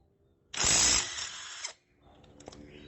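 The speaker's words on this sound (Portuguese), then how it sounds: "a chave de impacto está na rotação máxima, sentido de rotação anti-horário" A multi-head power tool in impact driver mode, run at maximum speed counterclockwise to remove screws, gives a loud close whir lasting about a second, then settles into a lower, easing spin before cutting off.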